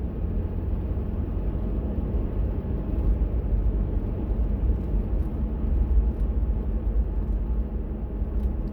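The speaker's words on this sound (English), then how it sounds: "And here the bus comes." A bus approaches along a rural road, a steady, loud, low rumble of engine and tyre noise that fills the whole stretch without letup.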